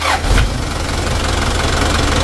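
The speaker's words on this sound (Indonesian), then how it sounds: "Ini kita hidupkan teman-teman ya. Kita starter." A Toyota Dyna diesel truck engine cranks briefly and catches, settling into a loud, steady low diesel idle with a rhythmic knock that continues throughout.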